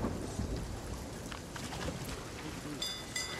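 Thunder and rain follow a lightning strike in a pirate-ship video game, a low rumbling roll under steady rainfall, fairly faint, with people talking over it.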